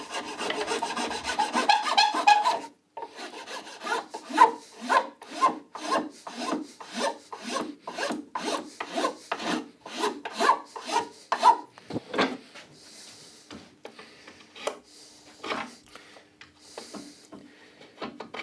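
A Japanese rasp shapes a wooden folding camping table part in a steady run of about twenty close, crisp rasping strokes, pausing briefly near the start and thinning into lighter, sparser strokes toward the end.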